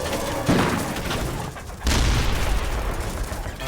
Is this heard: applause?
no